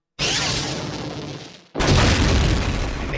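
A cartoon weapon fires a loud, close blast. A first booming burst rolls on for about a second and a half and fades, then a second heavy explosion cuts in sharply and sustains to the end. No one speaks.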